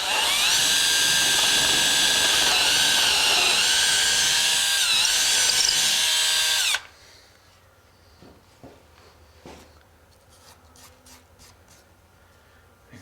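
A power drill bores a vertical hole in a wooden baseboard during model railroad layout construction, a loud steady whine for several seconds that cuts off abruptly, followed by quiet handling clicks and taps.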